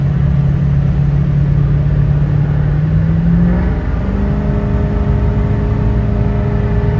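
A Ford 6.0 Powerstroke diesel truck engine at full throttle, a loud, close, droning roar that climbs in pitch, drops briefly at a gear change, then rises again steadily without any talking.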